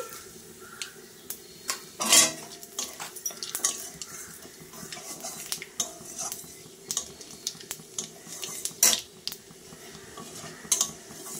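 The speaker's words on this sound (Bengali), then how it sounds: "তেলটা তো গরম হয়ে গেছে, একটা শুকনো লঙ্কা, কালো জিরে ফোড়নে দিয়ে দিচ্ছি।" Dried red chilli and nigella seeds tempering in hot oil in a Bengali kitchen, before garlic goes in for a prawn and taro-stem dish: soft sizzling with scattered clinks and scrapes of utensils against the pan, no talking.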